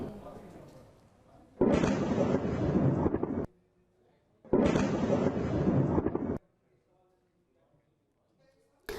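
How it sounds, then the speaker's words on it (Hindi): Two heavy, roaring blasts from US strikes in Khuzestan, Iran, each rumbling for about two seconds, separated by a short lull, loud and broad like distant explosions. "एक के बाद एक धमाके, आग का गोला दिखाई देता है"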